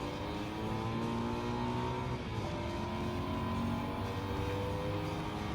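Turbo sports cars in Gran Turismo 7, among them a Nissan Skyline and a Porsche, with steady engine drone and rising, shifting revs as cars pass, alone without talk.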